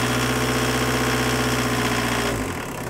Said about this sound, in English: it's 1030 is what I like to idle at. High idle.